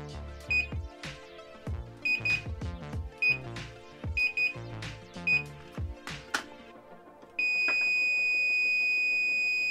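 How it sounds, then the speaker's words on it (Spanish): Home-made infrared-controlled alarm buzzer built on a circuit board, beeping in short repeated bursts amid clicks and knocks, then switching to a loud continuous electronic tone that holds to the end. "la alarma va a seguir sonando"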